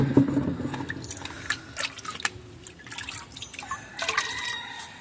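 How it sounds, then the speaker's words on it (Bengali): Rainwater poured from a tank into a bottle, irregular splashing and dripping with gurgling bursts of liquid filling the bottle, close by, no speech. "এটা থেকে আমি এই বোতলে পানি নিয়ে যাবো নিচে"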